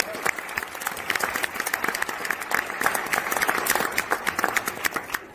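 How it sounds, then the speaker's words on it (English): An audience at a keynote dinner event claps in a round of applause, fairly close, with distinct individual claps forming a steady, lively patter that continues throughout. "Please give them a round of applause for that."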